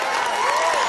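A crowd cheers and applauds the mayor during a total solar eclipse gathering in Turkey in 2006, with steady clapping and voices forming a continuous wash.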